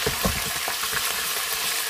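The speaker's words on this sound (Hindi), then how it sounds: "हम यहाँ पर लहसुन अदरक का पेस्ट डालेंगे।" Ginger garlic paste sizzles and spits in hot oil in a pan, a dense, steady close-up frying hiss with small pops and no voices.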